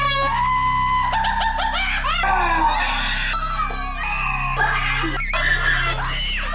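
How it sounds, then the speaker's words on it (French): Children scream and wail in fright at people in costume, with shrill, piercing cries in overlapping bursts over a constant low electrical hum. "des enfants qui sont effrayés par des gens déguisés et qui se mettent à hurler ou pleurer"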